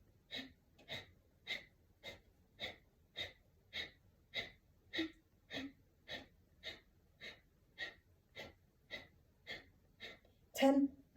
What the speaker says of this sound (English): Exhale, Kapalbhati.